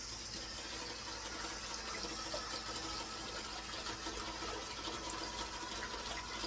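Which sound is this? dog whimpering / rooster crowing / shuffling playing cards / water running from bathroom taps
water running from bathroom taps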